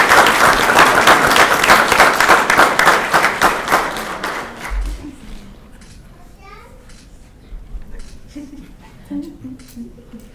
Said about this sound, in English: Again, to give them a round of applause,